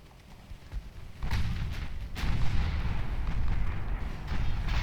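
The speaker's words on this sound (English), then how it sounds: "let the main guns do some work." Heavy warship main guns firing in Ultimate Admiral Dreadnoughts against a close heavy cruiser, several deep booming blasts rolling into a sustained loud rumble of naval gunfire.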